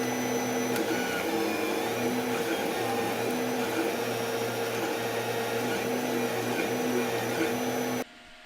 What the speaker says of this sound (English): There is still a high-pitched noise from the tiny cooling fans, both on the print head and inside the base of the printer